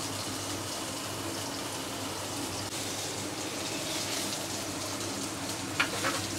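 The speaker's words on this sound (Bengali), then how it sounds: "কর্নফ্লাওয়ারের মধ্যে পনিরটাকে মাখিয়ে নিচ্ছে মানে, দিয়ে কড়াইতে ছাড়ছে" Paneer cubes coated in cornflour frying in hot oil in a wok, a steady, dense sizzle that holds even throughout with no voices.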